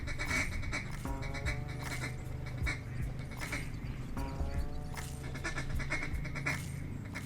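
Duck call blown in a rapid stutter-feed pattern to imitate several ducks on the water, quick nasal quacks in uneven bursts and short runs, fairly quiet and close, with no talk.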